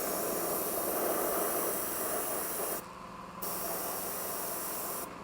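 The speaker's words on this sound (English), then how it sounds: "I'm going to try painting these with the airbrush" Airbrush spraying paint onto small model train handrails, a steady close hiss that drops away briefly once and then resumes.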